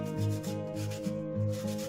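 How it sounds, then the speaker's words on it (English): Painted wood being sanded down by hand, heard as steady back-and-forth rubbing strokes in an even rhythm, close up, with no speech. "I ended up sanding it down a bit and it looked a lot better."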